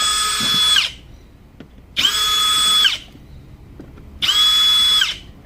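A power drill backs out screws to reach the blower motor of a 1999 Mercedes-Benz W140 S500, running in three loud whirring bursts of about a second each, separated by short pauses, close up.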